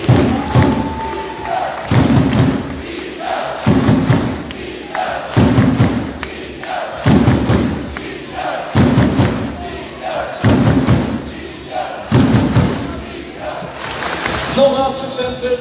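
A crowd at the Aluron CMC Warta Zawiercie volleyball team presentation in a hall, with rhythmic thumping claps and cheering in repeated waves under an announcer's amplified voice.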